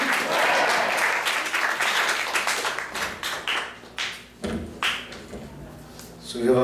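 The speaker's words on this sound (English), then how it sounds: "So let's give a round of applause for Radhabhava Mataji" Audience in a Hare Krishna temple in Atlanta applauding after a Sunday class, a dense steady round of clapping that thins into scattered claps and fades near the end, with some voices mixed in.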